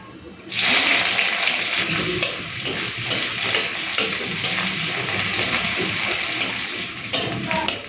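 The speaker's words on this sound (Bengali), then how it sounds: "ফড়নটা হালকা ভেজে নিয়ে দিয়ে দেবো পেঁয়াজ কুচি" Dried red chillies and five-spice fry in hot oil before chopped onions go in, making a loud, steady sizzle that starts abruptly and holds, with a few stirring knocks.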